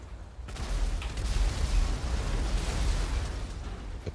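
In the video game GTA V, a dense, rumbling roar of blasts swells in and holds, with low booms and crackling bursts layered together.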